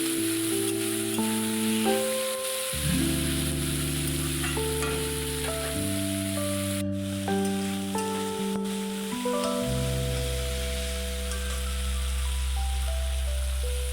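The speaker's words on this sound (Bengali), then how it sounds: "তো চিংড়িগুলো দিয়ে দিলাম তেলের ওপরে, একটু ভেজে নেব।" Shrimp frying in hot oil for a Bengali ash gourd ghonto, giving a continuous bright sizzle with light stirring under steady background music.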